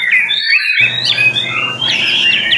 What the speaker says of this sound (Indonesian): Ini kan burung murai buat prestasian.